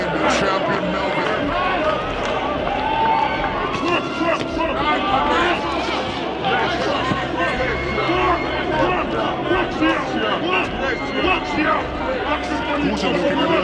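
A boxing arena crowd roars steadily behind champion Melvin in a late championship round, a dense sustained cheer and chatter under a commentator's voice.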